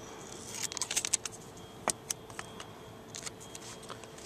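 Scissors snipping a piece of Tyvek tape, a close cluster of quick, sharp clicks and cuts followed by a few scattered crisp snaps in an otherwise quiet room.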